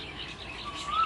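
Birds chirp in a garden, a thin, high tweet rising above a steady hiss of outdoor background noise over about a second.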